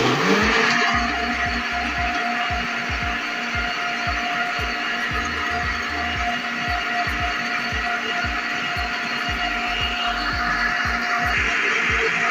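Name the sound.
mixer grinder grinding falsa juice with water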